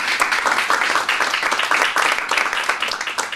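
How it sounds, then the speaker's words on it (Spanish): A church congregation bursts into a strong round of applause, dense rhythmic clapping that stays loud and close throughout with a few voices mixed in. "Eso merece un fuerte aplauso, hermanos."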